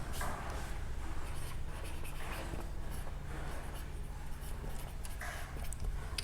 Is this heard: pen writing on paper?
yes